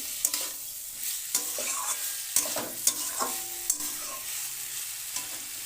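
Vegetables, including eggplant, stir-fried with spices crackle under a constant hiss, while a spatula scrapes and knocks against the pan in a series of irregular close strokes.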